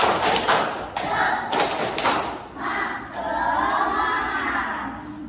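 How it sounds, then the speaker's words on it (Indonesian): Children in a classroom perform a rhythmic clapping chant together, sharp group claps and thuds mixed with loud unison shouting voices, filling the room at close range. "mari kita tepuk semangat terlebih dahulu"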